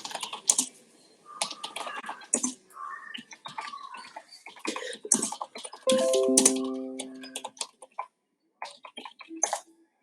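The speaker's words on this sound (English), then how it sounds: "if you're typing something" Someone types on a computer keyboard during an online exam session, producing irregular bursts of soft clicking and key taps with pauses between them. Faint tonal chirps come in briefly partway through.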